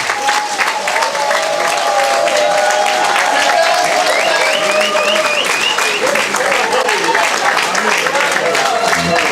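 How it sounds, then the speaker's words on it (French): An audience applauds vigorously at a community group gathering, with steady, dense clapping throughout, voices and some tonal sounds mixed in. "Nous allons les applaudir vivement et les encourager"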